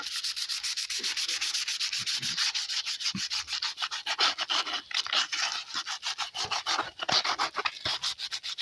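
A re-glued Peugeot 306 body part is sanded by hand in loud, close, rapid back-and-forth abrasive strokes that keep a steady rhythm throughout.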